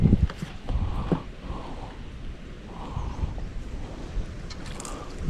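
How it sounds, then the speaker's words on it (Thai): Strong wind buffets a fishing boat on swift, rushing water, gusty roar and wind noise on the microphone with uneven swells and slaps of water throughout. "ทั้งลมทั้งน้ำนะครับ น้ำก็เชี่ยว ลมก็แรงครับ"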